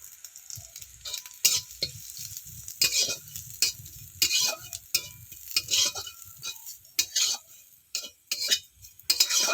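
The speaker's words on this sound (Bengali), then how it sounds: "এরপর আধ ভাঙা বাদামগুলোকে দিয়ে দিলাম তেলের উপরে।" Half-broken nuts fry in oil with black cumin seeds and chopped green chili, giving a soft continuous sizzle broken by repeated scraping and clinking strokes of a spoon stirring the pan, heard up close.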